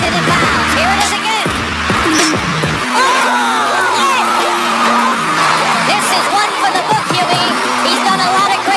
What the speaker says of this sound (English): listen to this crowd get warmed up to Michael